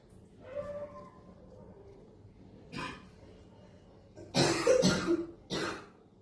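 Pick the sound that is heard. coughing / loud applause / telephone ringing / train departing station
coughing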